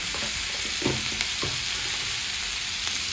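Ivy gourd tossed with turmeric and salt in a pan over a low flame: a steady soft sizzle with a few scraping spatula strokes, close and continuous, no voices.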